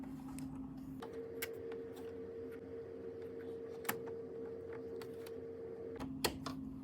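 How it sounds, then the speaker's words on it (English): A zigzag presser foot is fitted onto a sewing machine, giving a couple of small, sharp clicks over a steady low hum, the last snap coming near the end. "Then attach the zigzag foot."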